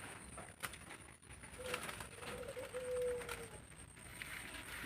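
Doves cooing faintly at a bird farm, soft low calls rising from a quiet outdoor background with a steady high hiss.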